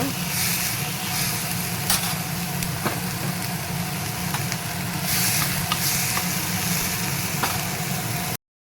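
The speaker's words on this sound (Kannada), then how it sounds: "ನೋಡಿ ಈಗ ಈರುಳ್ಳಿ ಸ್ವಲ್ಪ ಚೆನ್ನಾಗಿ ಹಸಿ ವಾಸನೆ ಚೆನ್ನಾಗಿ ಫ್ರೈ ಆಗಿದೆ." Onions fry in a pan for pav bhaji with a loud, continuous sizzle, while a spoon stirs and scrapes through them in occasional clacks; the sound stops abruptly at the end.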